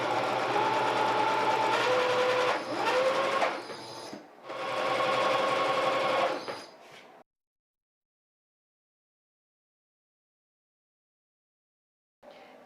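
A sewing machine stitches a fabric seam for a makeup brush roll in two close, loud runs with a brief pause between them, then falls silent, followed by a faint sound at the very end.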